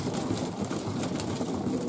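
Soft, low cooing of pigeons being fed blends into a dense, rustling background, with constant fluttering and shuffling nearby.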